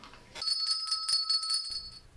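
A bright bell rings rapidly for about a second and a half, a sustained metallic trill with a clear ringing tone, loud and close.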